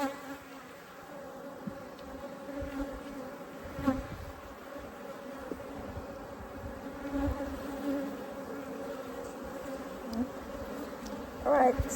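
Bees buzz around an opened hive during an inspection, a close, continuous droning hum with individual bees flaring louder as they pass near.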